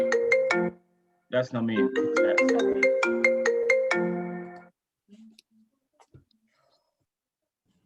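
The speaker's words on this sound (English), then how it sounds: "I cannot believe we still have this kind of sound for your phone." An old-style mobile phone ringtone plays a loud, bright electronic melody of quick beeping notes, stops abruptly, and is followed by a brief spoken voice and faint handling noise.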